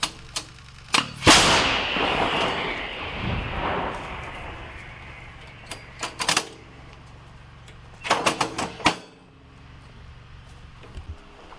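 A single heavy artillery blast booms and rumbles away in a war setting, followed later by scattered sharp metallic clanks and bangs from handling equipment nearby.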